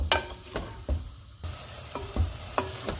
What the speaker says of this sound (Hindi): ऑयल गर्म हो गया, इसमें प्याज डाल देंगे। प्याज को हम गोल्डन फ्राई करेंगे।